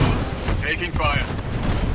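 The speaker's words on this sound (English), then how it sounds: "Taking fire." Gunfire striking a Titan in the video game Titanfall 2, a dense burst of impacts and mechanical clatter under game voice lines, loud and continuous across the moment.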